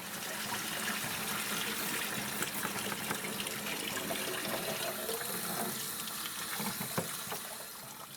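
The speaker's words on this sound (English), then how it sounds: "simply pour the wash basin back through the sieve and you've collected all the media" Water pours from a wash basin back through a sieve to catch brass-cleaning media during ammunition reloading. It makes a steady, close splashing rush for the whole stretch, with no voices.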